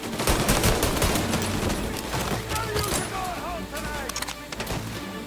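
Gunfire in the video game Mafia: Definitive Edition, dense shots and bursts layered with game effects and shouted voices throughout.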